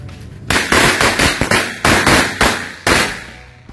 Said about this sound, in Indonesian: selanjutnya ini kita nyalakan mercon korek yang warna biru ya